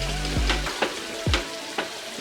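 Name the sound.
ground masala frying in oil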